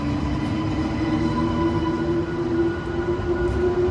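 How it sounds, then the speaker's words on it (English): A long Iryo high-speed train passing near the tracks, a steady loud rolling rumble with a sustained metallic whine holding throughout, no gaps or pauses. "Well, that's a long train."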